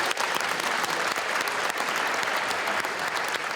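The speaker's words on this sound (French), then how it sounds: "Je voudrais qu'on l'applaudisse chaleureusement." An audience applauds warmly at an event honouring a refugee athlete, a dense, steady wash of clapping that holds at an even level throughout.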